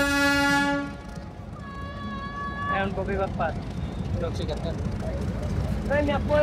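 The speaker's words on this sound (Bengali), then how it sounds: "আমাদের ট্রেনটি এখন আবারও ফের শ্যামপুর রেলওয়ে স্টেশন ছেড়ে এখন এগিয়ে যাচ্ছে গ্যান্ডারিয়া রেল স্টেশনের আউটারের দিকে" A Narayanganj commuter train pulls out of Shyampur railway station toward Dhaka. A loud multi-tone horn blast is followed by a steady low rumble of the moving train, with voices talking over it in the second half.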